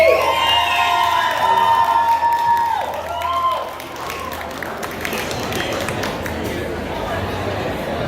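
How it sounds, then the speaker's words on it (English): A festival audience at the 2019 Ocala Veg Fest cheers and applauds loudly as a speaker is introduced, shouts and whoops riding over the clapping at first before the crowd settles into steadier, softer applause mixed with chatter. "So everyone, give a round of applause for Vegan Drewski!"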